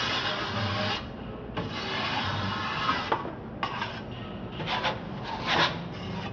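A trowel scrapes and rubs plaster filler across a plasterboard wall patch in repeated strokes, some long and some short, close by with no talking.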